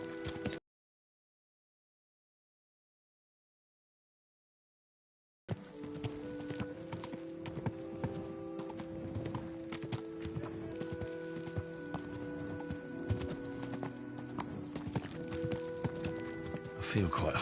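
Rhythmic horse hooves clip-clopping at a steady gait in the video game Kingdom Come: Deliverance II, alongside sustained musical tones, following a brief stretch of silence at the start.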